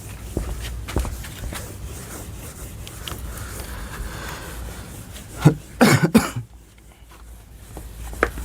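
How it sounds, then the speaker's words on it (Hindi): A teacher coughs in a short, loud cluster of harsh bursts close by in the middle of a quiet room, followed by near silence and soft shuffling sounds. "थोड़ा खांसी हो गया है"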